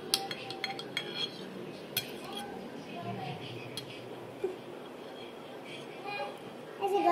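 Pudding is cut with cutlery, giving scattered light clinks and scrapes against a dish under a steady murmur of voices and children in a room, with a cluster of sharper taps near the end.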